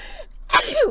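One sharp sneeze: a short indrawn breath, a brief pause, then an explosive burst of breath, close and clear.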